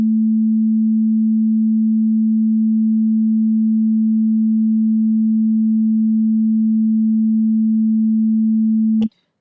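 An ES2 synthesizer holds a single steady, pure low tone while a key is held down. It stays loud and unchanging for several seconds, then cuts off abruptly with a tiny click.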